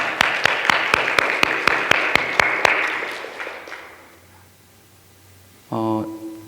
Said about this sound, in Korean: 우리 함께 환영의 박수 하시겠습니다.